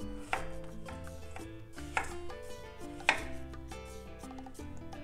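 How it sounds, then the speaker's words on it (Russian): A knife slices a cucumber into rounds on a cutting board, making several crisp, evenly spaced chops up close, with music playing underneath. "Также в наш быстрый салат добавим один огурец. Сперва кружками."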